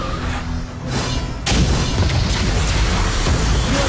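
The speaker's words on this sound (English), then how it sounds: "Your team has destroyed a tower" A tower destroyed in the mobile game Arena of Valor sets off a loud, booming blast that starts abruptly and rumbles on under dense game effects.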